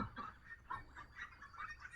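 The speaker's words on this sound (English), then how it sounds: "here's those crazy Pecan ducks" Young ducks about five weeks old on a farm, giving a steady run of faint, repeated quacks and honks at a moderate distance.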